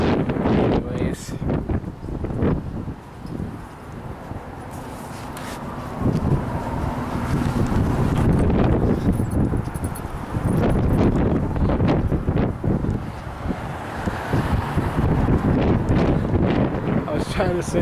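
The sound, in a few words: strong wind blowing into the microphone while walking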